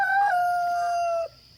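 A rooster crows once, close and clear, in a single long sustained call that cuts off abruptly after about a second, with nothing else heard behind it.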